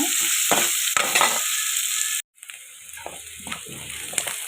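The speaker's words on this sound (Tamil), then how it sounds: "இப்போ நான் வெங்காயம் வதங்குறதுக்கு லைட்டாக உப்பு போட்டுக்கிறேங்க. நல்லா வெங்காயம் வதங்கட்டுங்க." Onions sautéing with a little salt in a pan, a loud continuous sizzle with repeated stirring scrapes, a brief dropout midway, then the frying and stirring resume.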